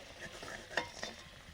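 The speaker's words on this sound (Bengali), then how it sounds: "ঝোল ফুটে গেছে" Curry gravy bubbling in a pan after fried lentil dumplings are added makes a brief, close, hissing simmer with a couple of sharp stirring scrapes.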